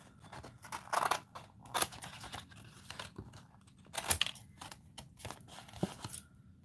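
Scissors snipping and rustling through paper in quick irregular bursts, close by, with light crinkling between cuts and no talking.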